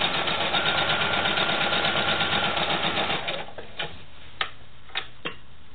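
A sewing machine runs steadily as it stitches quilt sashing onto the edge of a piece, then stops, leaving a few sparse clicks and taps.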